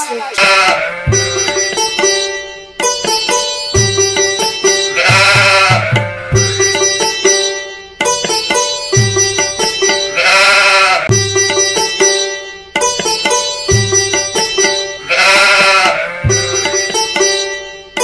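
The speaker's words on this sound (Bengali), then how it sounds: "অবশেষে তান্তা গরু হাটে চলে আইলাম" Sheep or goats bleat loudly and repeatedly at a crowded cattle market, with several overlapping calls in quick succession close to the recorder.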